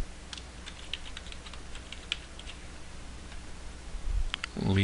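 A password is typed on a computer keyboard while a mail server is being set up. Light, scattered key clicks tick along quietly and are followed by a short burst of heavier handling noise at the end.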